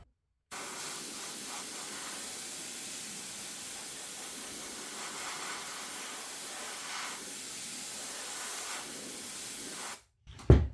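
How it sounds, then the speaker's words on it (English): A spray gun lays down contact adhesive for a custom Harley-Davidson seat in one long steady hiss lasting about nine seconds, close and even, ending abruptly followed by a brief knock. "I'm using contact adhesive in a spray gun."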